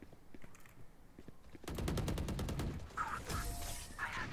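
Automatic gunfire in the shooter game Valorant on the Icebox map, a sudden rapid burst of loud shots after a quieter stretch, followed by more distant shooting and in-game effects.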